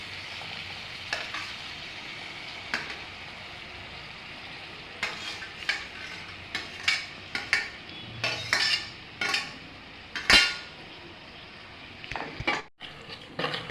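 Tomatoes being sautéed in a pan for a crab masala: a soft, steady sizzle, then increasingly frequent scraping and stirring strokes of a spoon against the pan, close and clear with no talking.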